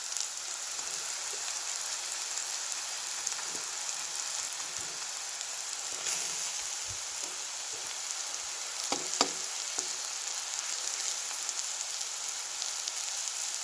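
Garlic and coconut masala roasting in a pan for a bitter gourd curry: a steady, moderately loud crackling sizzle with a few sharper pops and stirring scrapes, no talking.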